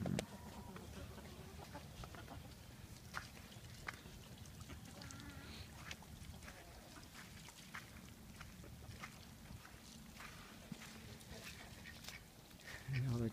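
Chickens cluck and ducks quack faintly in a farmyard, scattered short calls over low outdoor background noise.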